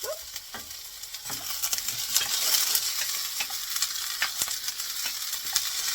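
Onions and garlic sizzle steadily in a pan for a Mexican lentil soup, a continuous crackling hiss with occasional sharper pops and stirring clinks, close and fairly loud, with no voices.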